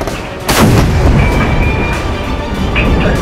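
A Leopard 2 battle tank fires its 12 cm smoothbore main gun in a single loud, close blast that rumbles on for several seconds.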